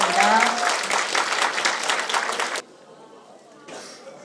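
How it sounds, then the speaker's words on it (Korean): Audience applause at a memorial academic concert marking the 44th anniversary of May 18 in Mokpo, a loud burst of clapping for about two and a half seconds that stops abruptly, followed by a brief faint patter. "자, 다시 한번 큰 박수 부탁드리겠습니다"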